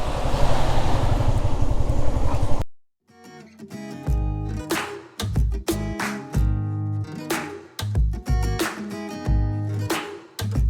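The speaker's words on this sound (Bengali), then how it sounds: "বাইক ঢুকায় দিই ভিতরের দিকে" A motorcycle's engine rumbles loudly and close at a bike wash station for under three seconds, then cuts off abruptly, leaving rhythmic music to carry on alone.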